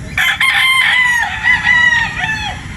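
A Sweater Boston broodstag rooster crows loudly and close, one long drawn-out cock-a-doodle-doo call with a trailing end, heard alone.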